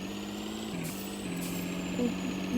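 A truck engine drones steadily in a driving video game, with air brakes hissing and a short beeping tone near the end, continuous and moderately loud.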